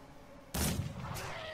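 A sharp gunshot in the video game Mordheim: City of the Damned fires loudly and abruptly, then a rumbling tail decays with a second softer crack just after.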